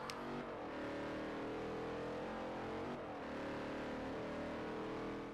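A Dodge Challenger from Forza Horizon holds a loud, steady engine drone, its pitch shifting slightly through a gear change midway, with no speech.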